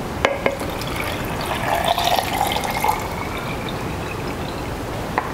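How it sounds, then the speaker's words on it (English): Pickle brine and salt water pour steadily into a jar of fermenting garlic dill pickles, a continuous close liquid trickle and splash with a few small clinks at the start and end. "Add your pickle or sauerkraut brine and enough salt water"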